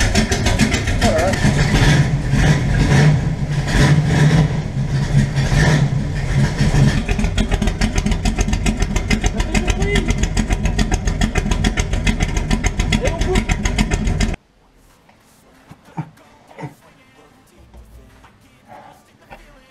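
1969 Dodge Charger V8 with exhaust cut-outs open, a loud rumbling idle and revving held for about fourteen seconds before it cuts to a much quieter scene with faint knocks; voices speak briefly.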